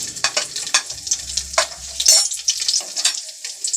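Nigella seeds, fenugreek seeds and white cumin hit hot oil in a pan, giving a bright crackling sizzle with sharp pops and a few stirring scrapes, close and fairly loud with no voices.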